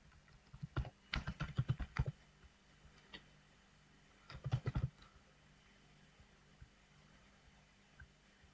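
Quick bursts of computer keyboard typing, two short flurries of close, crisp key clicks separated by quiet pauses, then a few scattered single taps.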